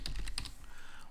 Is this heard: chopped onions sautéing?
no